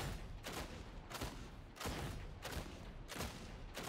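Fire shotgun blasts in the video game Darktide, a gold-quality weapon, booming out in a steady rhythm of about five or six loud, broad shots roughly every half second to second, each with a sharp attack and a short roar.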